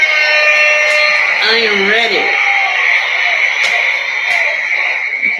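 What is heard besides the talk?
buzzer sounding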